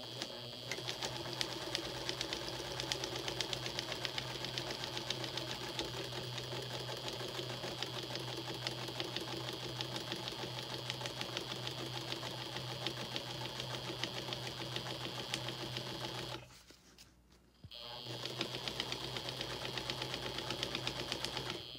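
Sewing machine stitching through a quilted denim block, a loud steady mechanical whir with rapid needle rhythm, pausing briefly for about a second before resuming.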